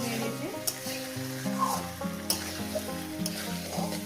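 Snakehead fish and potato masala fries in a pan with a steady sizzle, broken by occasional stirring scrapes, while tonal background music plays throughout.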